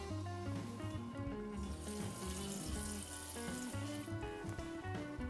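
Water pours steadily into a cooking pot holding cream for a mackerel and lentil dish, a continuous near rushing stream lasting about five seconds over a tonal background.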